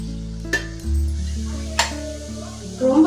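Halved boiled eggs dropped into sizzling Tamil egg masala in a pan, with a steady frying hiss, a couple of sharp splutters and light clinks of a spoon against the pan.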